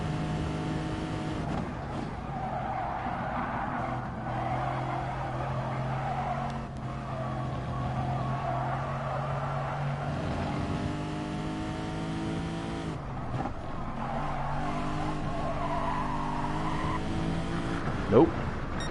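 A race car in a racing video game slides through turns, its engine whining and shifting pitch over steady tire squeal. The run is continuous and fairly loud, with brief dips where the revs drop and climb again.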